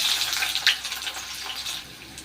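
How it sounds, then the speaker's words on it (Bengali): Sliced onions go into a pan of hot oil and set off a steady, bright sizzle and crackle, close and fairly loud, holding continuous throughout with no talk over it. "এবার এই পেঁয়াজগুলো দিয়ে দিই।"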